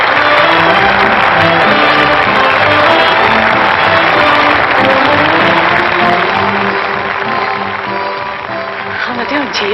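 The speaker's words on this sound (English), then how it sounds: "That noise is applause, isn't it?" Sustained applause from a large theater audience, steady and dense for about ten seconds, with a murmur of crowd voices and some shouts mixed in, tapering slightly near the end.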